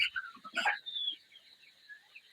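Forty-four-day-old chickens on a poultry farm cluck and peep in a busy flock, with one louder squawk early on and softer calls trailing off afterward.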